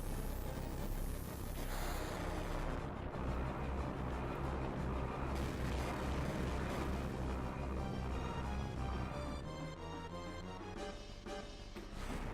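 Loud, dense rumbling roar and swirling effects of the Hades summon spell in Final Fantasy VII, a continuous layered blast of game sound lasting many seconds without voices.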